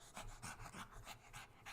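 A small dog pants in quick, steady rhythmic breaths, close and soft.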